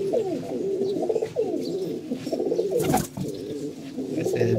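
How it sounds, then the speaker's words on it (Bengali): Two female pigeons coo in a steady series of low, rolling calls, close by and fairly loud, with the coos overlapping and repeating throughout. "এটা হলো মাদি কবুতর, দুটাই মাদি, এদের ডাকে"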